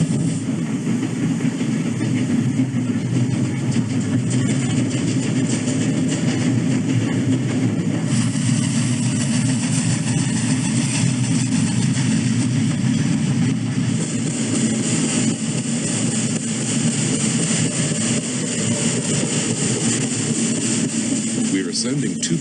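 Old 91, a steam locomotive on the M&H line, labors up a 2.9% grade with a steady, heavy rumble and continuous mechanical churn, loud and close throughout with no pause.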